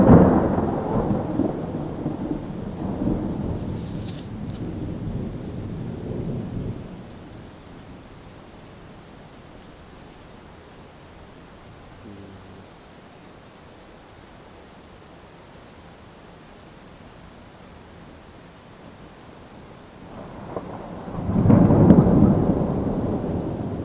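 Thunder rumbles through a night thunderstorm over Vitebsk, a loud rolling roar at the start that fades into quiet rain, then another heavy rumble swells near the end.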